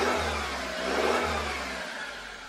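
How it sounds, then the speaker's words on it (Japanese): Toyota Hiace 200 series with a 2800 diesel engine is revved once, rising from a low idle rumble to a louder mid-pitched roar, then settling back down, close by and heard alone. "ちょっと吹かしてみます。"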